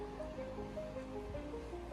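A small stream flows through Dean Village in Edinburgh, giving a soft, continuous watery wash that is fairly quiet and steady, with faint tonal sounds drifting over it.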